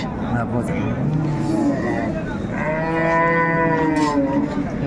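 A cow with her calf at a busy cattle market in Raniganj lets out a drawn-out moo, rising clearly over the surrounding crowd chatter and talk.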